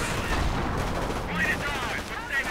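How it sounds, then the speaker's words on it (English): Grenades exploding amid small-arms fire in a WWII real-time strategy game, several dull bursts and crackling shots layered in dense continuous battle noise, with someone talking over it. "More grenades going off."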